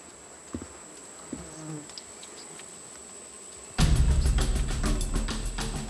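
Bees buzz around beehives, first as a low, sparse drone and then as a sudden, much louder close swarm mixed with rustling.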